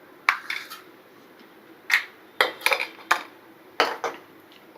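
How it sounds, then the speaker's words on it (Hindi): Jaggery and cardamom powder are stirred into boiled dal in a metal pot, producing repeated close clanks and scrapes of a spoon against the pot in an uneven rhythm. "इस गुड़ को हम मिला देंगे"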